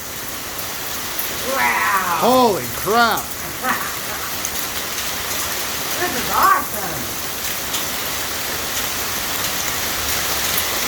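Hail pours down steadily during a thunderstorm, a dense, hissing patter on surfaces that never lets up. Excited voices exclaim over it in the middle of the downpour.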